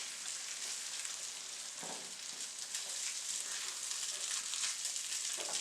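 Cooked rice sizzles steadily in a hot pan for beef fried rice, a dense, even hiss with occasional soft stirring scrapes, close and fairly quiet, with no talking.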